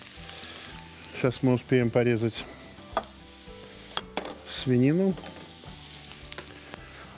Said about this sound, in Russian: Вот наш картофель жарится.